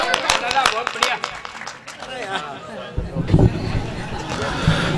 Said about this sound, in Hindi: एक बार पूरा सदन जोरदार ताली बजाए